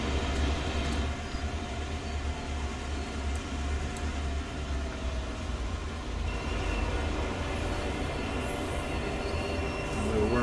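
Train rumbling along the track in the Train Sim World game, a steady low drone of engine and wheels that runs throughout at an even level.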